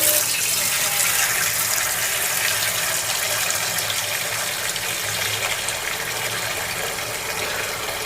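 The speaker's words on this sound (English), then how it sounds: "I will just take water." Water gushes steadily from a tap or jug into a cooking pot while making pumpkin khichdi, a continuous, loud splashing fill lasting several seconds with no talk.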